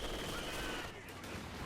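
MG42 machine gun fire in the real-time strategy game Company of Heroes 2: a dense, continuous crackling barrage of gunfire lasting throughout, with no clear gaps between bursts.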